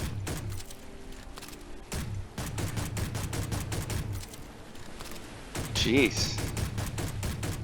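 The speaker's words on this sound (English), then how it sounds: "How many bullets do you have to put into a solar panel?" Gunfire in a video game, shooting bullets into a solar panel: repeated close bursts of shots in an irregular rhythm, with someone speaking briefly over them.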